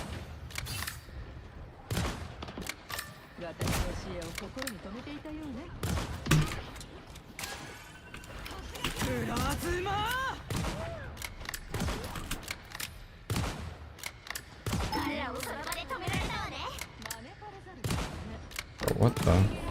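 Gunfire in an online MMO shooter, repeated sharp shots and bursts spread across the stretch, mixed with other game effects, with a player talking over the action.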